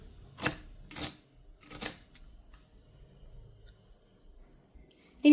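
A knife chopping vegetables on a board for prawn capsicum masala, three crisp close cuts spaced about half a second apart, then quiet with faint kitchen sounds.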